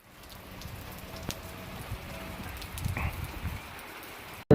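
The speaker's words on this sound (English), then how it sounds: "This rain's getting old." Steady rain falls around a parked 1997 Chevy S10 SS, a soft even patter with a few louder drops near the middle, ending in a short sharp knock.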